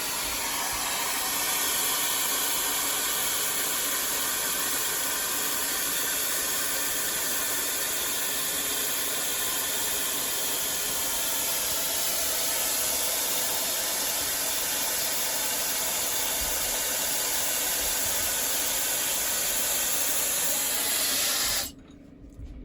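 A Shark IQ styling brush attachment blows a steady, loud airy whoosh while drying wet hair, running continuously and alone for about twenty-one seconds before cutting off abruptly near the end.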